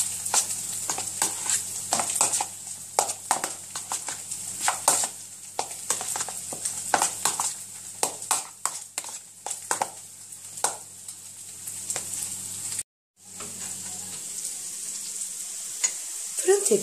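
Minced meat and onions frying in a pan, a steady sizzle broken by repeated scraping stirs of a utensil, close up, with a brief drop to silence before the sizzling resumes.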